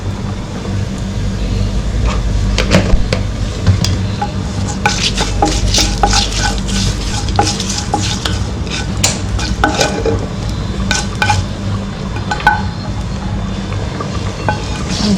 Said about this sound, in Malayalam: കറിവേപ്പിലയും ഒരു വറ്റൽമുളകും ചേർത്ത് കൊടുക്കാം